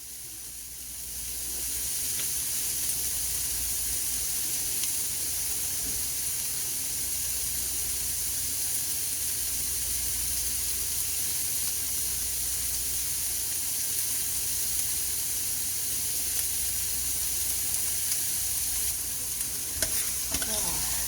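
Onions sizzle steadily in a hot frying pan, a continuous bright hiss with occasional stirring, close up and unbroken throughout.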